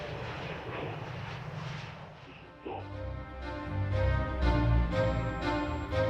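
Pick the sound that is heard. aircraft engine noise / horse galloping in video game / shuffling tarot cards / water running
aircraft engine noise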